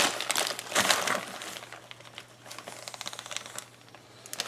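A plastic bag is rolled up to squeeze the air out before zipping it shut for composting, giving close crinkling and crackling bursts, strongest near the start and then softer, intermittent rustles.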